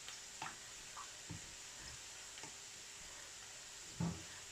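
Homemade marshmallow mixture stirred in a pan, a quiet sticky scraping with a few soft irregular knocks and one louder clunk near the end over a faint background hiss.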